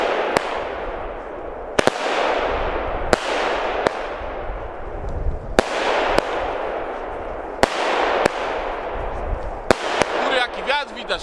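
Consumer fireworks from Lidl go off outdoors in a series of sharp bangs and pops, about eight separate bursts, each followed by a crackling, fizzing tail; voices talk intermittently between the explosions.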